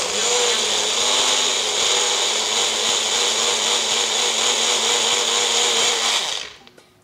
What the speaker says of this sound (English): I'm going to blend the spices that I roasted a few minutes ago.